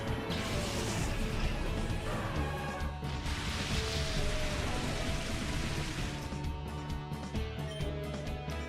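Rain summoned by the Drizzle ability in Pokémon XD pours as a dense, continuous hiss of falling drops, steady and moderately loud with no voices over it.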